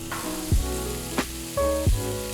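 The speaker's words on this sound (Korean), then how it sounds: "기름을 두르지 않는 후라이팬에 밑간을 해둔 차돌박이를 올려줍니다." Seasoned beef brisket sizzles in a dry, unoiled frying pan with a steady hiss. A few louder swells of crackle rise and fade over the continuous frying noise, and no one speaks.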